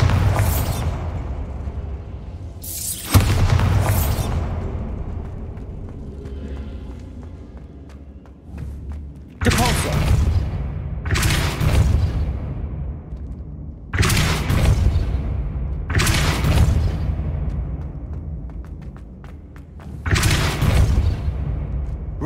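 Repeated spell blasts from the Bombarda charm in the Hogwarts Legacy video game: six or seven loud, booming explosions that land in irregular bursts, some of them in quick pairs, with rumbling tails between them and no talking.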